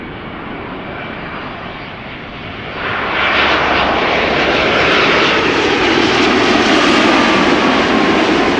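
A three-year-old Turkish Airlines Boeing 787-9 Dreamliner arriving from Istanbul at Amsterdam Schiphol Airport gives a loud, steady jet roar that swells partway through and stays strong and close.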